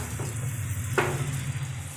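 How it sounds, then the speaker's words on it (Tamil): An eggplant and tamarind mixture bubbles in a pan on the stove, a steady soft sizzle with one brief clatter of stirring partway through. "இப்போ இதெல்லாம் நல்லா கொதிச்சிட்ருக்கு"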